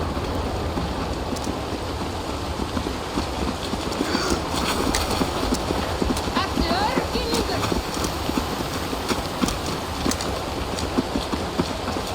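Steady horse hooves clip-clopping in a continuous rhythm from Assassin's Creed Valhalla, mixed with a busy game soundscape and some background voices.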